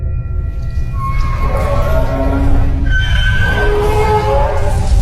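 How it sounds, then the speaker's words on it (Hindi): Cartoon-style train sounds in a forest: drawn-out whistle-like tones glide and overlap over a steady low rumble, with no speech over them. "इस जंगल में आखिरकार ट्रेन की आवाज कहाँ से आ रही है।"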